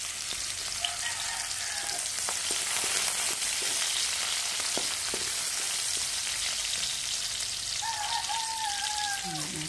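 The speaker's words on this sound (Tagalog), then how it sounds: "Igisa muna natin yung ating ricado. Sibuyas." Sliced onion sizzles in hot oil in a wok as aromatics are sautéed, a steady crackling hiss with scattered pops that continues throughout.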